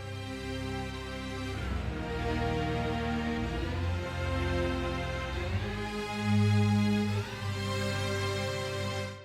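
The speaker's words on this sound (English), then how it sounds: "we have these oriental portamento chords being played over it" Oriental strings glide between chords in portamento over sustained string chords, with swooping pitch bends around the two-second and six-second marks in a rich orchestral arrangement with no voices.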